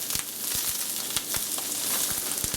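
Mushrooms on a barbecue grill being stirred, a steady bright sizzle close by, broken by soft irregular ticks and clacks from the stirring, with no talking.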